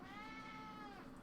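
An indoor house cat meows in one sustained, drawn-out cry, close but faint, wanting to be let outside into the rain.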